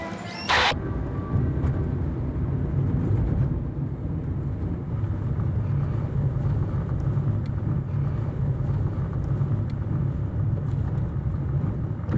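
A car driving along a road in Nicaragua, with a steady low engine and road rumble plus wind buffeting the microphone, continuous and fairly loud throughout, with a brief knock near the start.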